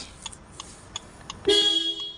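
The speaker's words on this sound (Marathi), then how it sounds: "ड्युएल हॉर्न येतो आणि हा खूप प्रीमियम साऊंड आहे ह्या मारुती सुझुकीमध्ये" After a few faint ticks, the dual horn of a 2025 Maruti Suzuki Fronx 1.2 VVT blares once, a loud, close two-tone honk held for the final moment.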